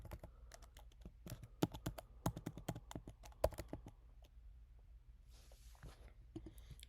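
Keys on a computer keyboard clatter in quick, irregular bursts as an email address is typed into a US visa application form, close and fairly quiet, with a short pause near the end.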